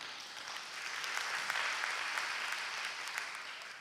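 Church congregation at a youth prayer meeting claps together, a full, even wash of applause swelling slightly midway and holding steady, fairly distant and soft, with no talking.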